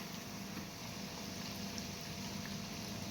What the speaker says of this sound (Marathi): आता आपण वड्यांना दुसरी साईड तळून घेऊयात